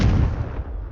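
A Confringo blasting spell from the Hogwarts Legacy video game lands as a single loud, booming explosive burst that rumbles and fades within a second.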